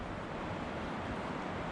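Water rushes steadily from an overflow outlet of an old canal at the ruins on Belle Isle, Richmond, Virginia, a constant broadband wash with no other sounds over it.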